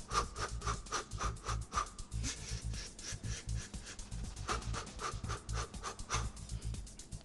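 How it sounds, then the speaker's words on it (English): Rhythmic heavy panting from a boxer during training, sharp in-and-out breaths repeating steadily and close up, with faint rubbing and shuffling beneath and no talk. "Don't forget to breathe."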